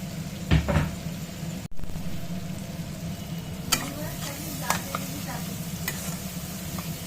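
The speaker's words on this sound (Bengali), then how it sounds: "মশলাটা একটু ভালো করে কষে নেবো" Spice paste fries and is stirred in a pan for a taro stolon and prawn curry: a continuous sizzle with scraping stir strokes and a sharp knock early on.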